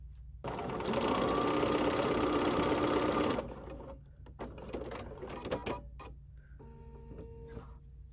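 A sewing machine stitches one fabric square onto another, running in a fast, loud, continuous whir for about three seconds, then dropping to quieter, uneven mechanical clicks and taps as the stitching stops.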